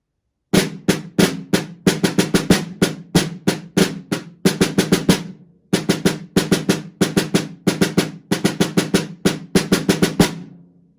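Snare drum playing a percussion-section bass pattern with flams added, crisp rapid strikes in repeated rhythmic groups across several measures, close and loud, alone, with a brief gap midway.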